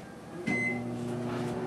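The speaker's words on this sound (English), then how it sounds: "Now we're just gonna melt the chocolate in the microwave." Microwave oven melting chocolate: a door clunk and short start-up tone, then a steady low electrical hum that continues evenly to the end.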